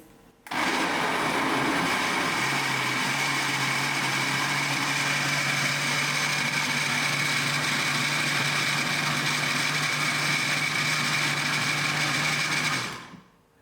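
A kitchen blender whirs loudly and steadily for about twelve seconds while blending a mixed berry smoothie, with the motor pitch settling into a constant drone before cutting off abruptly.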